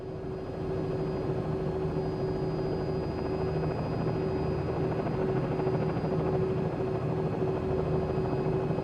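Simulated aircraft in Microsoft Flight Simulator 2020 cruises near the Statue of Liberty and the city, a steady droning rotor-like engine hum with a constant tonal whine, continuous and even throughout with no talk.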